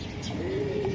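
A racing pigeon of Eddie Long lineage coos close by in a soft, continuous low murmur lasting about a second, with a faint higher chirp near the end.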